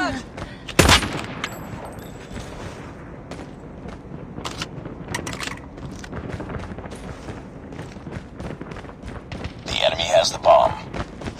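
A sharp sniper shot cracks once early in a video game match, followed by scattered thumps, mechanical clatter and lighter gunfire bursts in the background.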